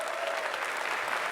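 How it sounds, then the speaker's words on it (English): A live audience applauds at a PAX East 2016 convention stage show, a steady wash of clapping that stays dense and even from start to finish. "she deserves a round of applause"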